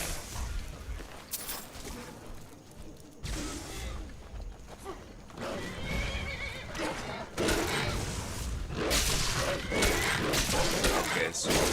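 Horses in the Skyrim video game neigh and whinny repeatedly while under attack, with hoof clatter, creaks and combat clashes in a busy game soundscape, and speech is also audible.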